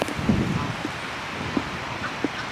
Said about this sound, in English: But there it is, the geese here at Lake Padden.